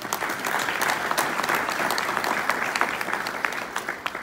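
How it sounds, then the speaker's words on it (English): A room full of people applauds during a Florida Police Chiefs Association induction speech, dense steady clapping that stays loud and even throughout, with a faint voice or two mixed beneath it. "So let's give them another round of applause."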